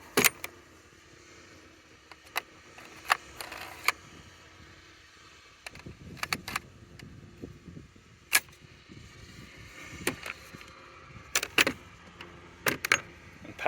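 Loading a Milwaukee cordless fence stapler: sharp plastic and metal clicks and snaps arrive in scattered bursts, several close together, separated by quiet pauses and light handling rustle, close up with no speech.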